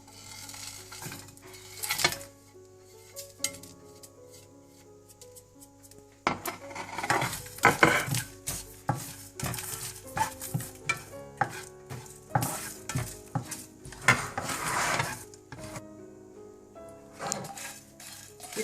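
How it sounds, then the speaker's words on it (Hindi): Whole spices for nihari dry roasting in a pan, with repeated scraping and stirring, clinks of a utensil against metal and a faint sizzle, in irregular bursts that grow busier partway through. "आपने इनको ड्राई फ्राई कर लेना है। थोड़ा सा हल्का सा आपने भून लेना है इन सारे मसालों को।"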